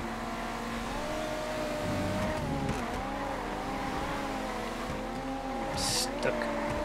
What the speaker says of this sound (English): This is the LMP2 car.